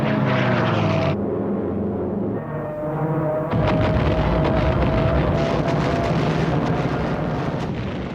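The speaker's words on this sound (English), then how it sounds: "As the Japanese aircraft dived into the attack" Japanese attack aircraft diving in a war scene, loud roaring propeller engines with rumbling, explosive low noise, a brief dip then a renewed dense crackling roar continuing throughout.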